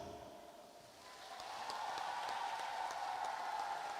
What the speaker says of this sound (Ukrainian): І тому давайте ми дамо оплески